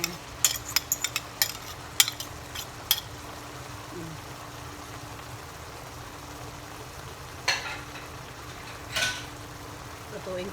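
Bitter gourd with shrimp and egg sizzles gently in a pan, a low steady frying hiss broken by a few clinks of a utensil early on, with a voice talking in places.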